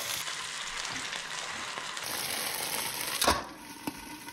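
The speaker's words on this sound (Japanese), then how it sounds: "ごま油を敷いた中華鍋に下味をつけたお肉を炒めていきましょう" Seasoned meat sizzles and crackles in sesame oil in a wok, with a brief clatter of stirring and scraping partway through, fairly quiet.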